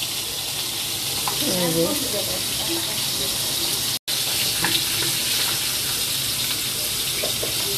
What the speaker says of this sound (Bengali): তেল গরম দিয়েছি এখানে একটা ব্যাটার করে নিয়েছি এটার মধ্যে ডুবিয়ে ডুবিয়ে ভাজবো